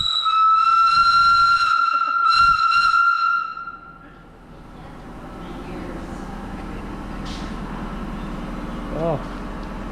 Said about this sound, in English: There's a steam whistle, it's pretty loud.